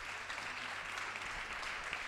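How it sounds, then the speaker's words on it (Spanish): Audience applause at a curvy fashion model event, a brief, steady wash of clapping from a crowd heard at moderate distance, even and unbroken. "Un aplauso a Backstage."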